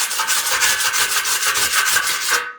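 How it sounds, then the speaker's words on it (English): Wire brush scrubbing slag off a fresh stick weld made with a Sefaspe MMA200SE welder running on 220 V, a steady rhythmic bristly rasping of quick back-and-forth strokes, close and continuous for a couple of seconds. "I guess we can try this wire brush that came with it."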